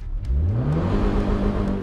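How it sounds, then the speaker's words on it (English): A loud car engine rises quickly in pitch and then holds steady at high revs with a slight wavering as it bounces off the rev limiter, at an autocross event. "It revs up to a point and bounces off of a rev limiter"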